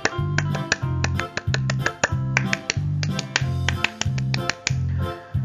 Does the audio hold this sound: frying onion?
no